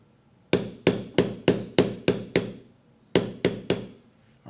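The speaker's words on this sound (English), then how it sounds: "Now we will use that in this area in here to pound it down" Metal stamping tool hammered into leather for engraving, a run of eight sharp, evenly spaced close strikes, a short pause, then three more blows.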